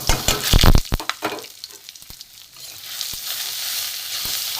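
Grated ginger, cumin, coriander and dried chillies hit hot oil, opening with a burst of loud crackling and spitting, then settling into a steady, fainter sizzle with occasional pops.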